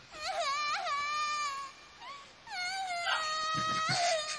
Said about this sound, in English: My dog is also crying right now.